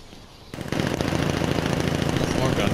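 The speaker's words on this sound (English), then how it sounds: "More gunshots." Rapid, continuous gunfire from the video game Batman Arkham Knight bursts in after a quiet half-second and stays loud and dense to the end, close up like heavy automatic weapons.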